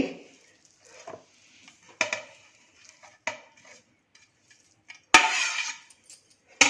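Scooped wood apple pulp going into a mixer jar, heard as a sparse series of metallic spoon-on-steel clinks and scrapes, close and fairly quiet, with a sharper clatter partway through.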